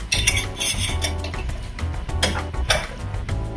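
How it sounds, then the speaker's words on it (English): Spicy garlic pork gets a quick stir in a pot, with clinking utensil scrapes and metallic taps against the pot in an irregular rhythm, close and fairly loud. "Then I give this a quick stir."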